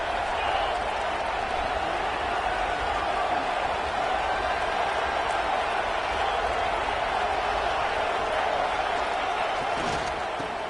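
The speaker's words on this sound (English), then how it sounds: "This crowd is trying to inspire this defense to make a big red zone stop." Steady, dense roar of a stadium crowd in the College Football 26 video game, sustained and unbroken throughout at a constant loud level.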